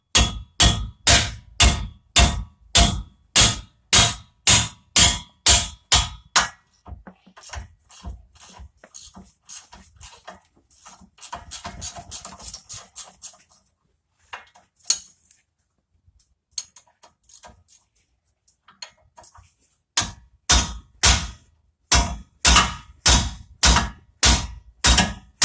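Sharp metallic hammer blows on front brake parts of a 2010 Chevy Suburban ring out in fast, regular bursts, pausing for quieter tapping in the middle before the steady pounding resumes, close and loud.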